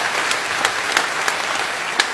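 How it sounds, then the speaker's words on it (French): A comedy show audience claps for Kevin Tonelli, close and fairly loud dense clapping with a few sharper individual claps standing out, held steady for a couple of seconds. "Je voudrais qu'on fasse un tonnerre d'applaudissements à Kevin Tonelli."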